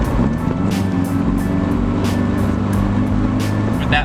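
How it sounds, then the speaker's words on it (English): A naturally aspirated Subaru EJ flat-four boxer engine runs steadily at a close, loud idle with a deep low rumble and a faint rhythmic ticking. "That boxer engine, that flat four engine, which means the pistons are opposing each other."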